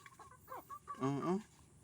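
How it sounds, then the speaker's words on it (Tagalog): Chickens cluck in short bursts close by, several overlapping calls rising into a louder flurry of clucking midway. "Gutom na palang mga manok."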